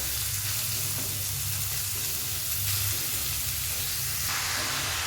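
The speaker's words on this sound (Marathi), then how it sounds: "आता एका कढईमध्ये आपण तूप टाकून घेणार आहोत दोन ते तीन चमचे तूप टाकायचं आता आपण त्याच्यात गाजर टाकूया" Grated carrots frying in ghee in a kadai for gajar halwa, a loud, continuous close-up sizzle with a faint stirring undertone and no talking.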